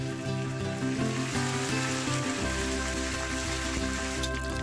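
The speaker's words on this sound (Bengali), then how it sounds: "এইভাবে পটপট করে সর্ষেটা ফাটলে বুঝতে হবে সর্ষেটা ভাজা হয়ে গেছে।" Mustard seeds crackle and pop in hot oil in a dense, rain-like patter, with music playing steadily underneath.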